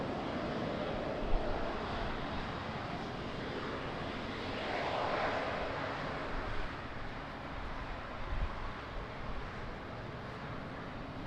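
An airliner roars in to land on runway 20 at Lisbon Airport in rain and wind, a broad steady engine rumble that swells and fades against gusty outdoor noise.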